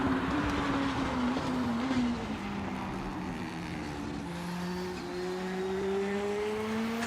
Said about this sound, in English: let's listen to the overrun.